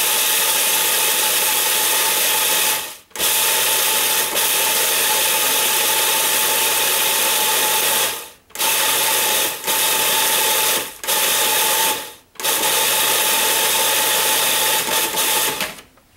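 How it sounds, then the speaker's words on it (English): A food processor grinds oats into a coarse meal in loud, steady motor bursts, broken by about five brief pauses between pulses, with no talking. "I'm just going to pulse that for a quick minute just so that it gets to a kind of a coarse grind."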